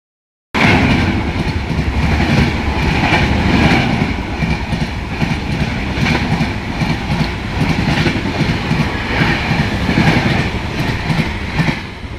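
The Pawan Express rolls through a station near Prayagraj, loud and close, with a continuous rhythmic clickety-clack of wheels over rail joints and a rumbling roar that holds steady for the whole pass.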